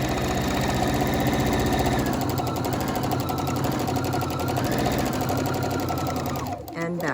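A sewing machine stitches a fabric face mask with a filter, running in a fast, steady mechanical rattle close up for nearly the whole stretch before stopping abruptly at the end.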